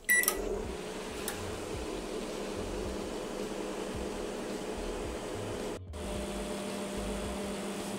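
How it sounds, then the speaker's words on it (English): A microwave oven under fault testing starts with a short beep and click, then runs with a steady, even hum and whir. About two-thirds of the way in there is a brief dip and a click. "We're going to start the microwave."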